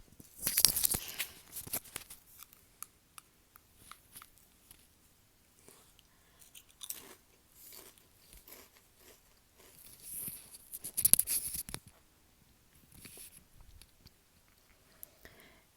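Lay's potato chips dipped in ketchup are eaten close up, with quiet crunchy bites and wet chewing in scattered bursts separated by pauses.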